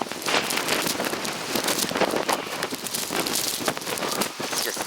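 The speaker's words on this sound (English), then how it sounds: "The wind, it just cuts through the gloves." Blizzard wind in the Bronx, New York, roaring as a steady, rough, close rush of noise against the microphone that never lets up.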